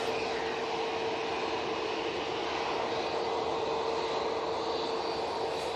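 An airliner roars steadily on its takeoff roll at Manchester Airport, departing for Berlin, a loud unbroken broadband rush with a constant whine running through it.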